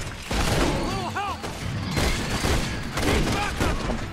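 Rapid weapon fire in Resident Evil 6 comes as loud, dense bursts of shots with metallic ringing, continuous across the span.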